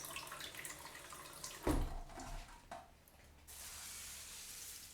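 A cup of water pours into a cast iron skillet holding a cup of instant rice, a sudden splash followed by a faint, steady hiss.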